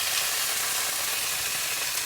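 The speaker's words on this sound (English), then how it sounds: "set this in that still sizzling oil" Steady, loud sizzling of steak fat frying in hot oil, a continuous crackling hiss with no pauses and no voices.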